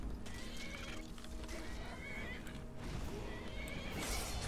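A horse neighs and whinnies in Skyrim, a clear close call with hoof clip-clop and ambient game sounds around it, no talking.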